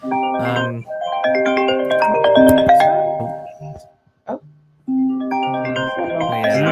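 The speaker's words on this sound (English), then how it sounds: "Somebody's phone. That's a phone" A phone rings with an incoming call during a live online hangout, giving a melodic electronic ringtone of stacked tones in two loud bursts separated by a brief pause.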